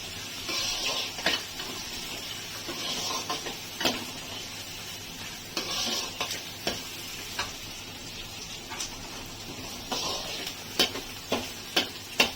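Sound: stirring chana dal pulao with cashews and raisins in a pan

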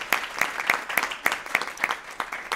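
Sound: round of applause at board meeting

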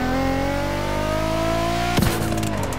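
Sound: GTR Haru car engine revving in The Crew video game

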